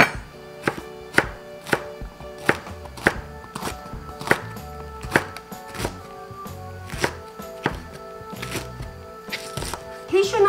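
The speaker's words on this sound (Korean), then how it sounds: "쫑쫑 썰어서 넣어주세요." Knife finely chopping cheongyang chili peppers on a board, a regular series of crisp close chops about twice a second, with a voice speaking over parts of it.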